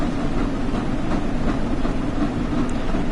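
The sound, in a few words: Flying Scotsman steam locomotive running, from video game Train Sim World 4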